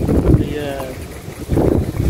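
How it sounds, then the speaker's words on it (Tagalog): Strong wind blows outdoors near a mall, buffeting the microphone with low rumbling gusts that swell and fade, while a person talks over it. "malakas yung hangin"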